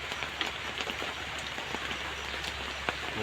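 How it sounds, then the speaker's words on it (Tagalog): Steady, dense rainfall pouring down on a pigeon loft, a broad hiss with scattered sharper drops spattering close by, continuous throughout with no voices. "lakas ng ulan eh"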